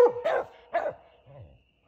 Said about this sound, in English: The dogs treed again in an extremely dense forest of thickets.